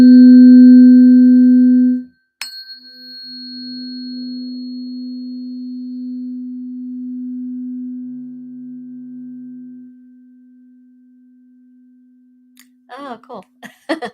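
A 256 Hz C tuning fork struck and left ringing as a steady pure tone that slowly fades over about ten seconds, a second strike partway in, brief voices at the end.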